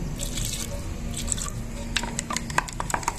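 Water trickles and drips into a bowl of Fevicol glue, a soft steady pour followed by a few distinct splashy drips near the end.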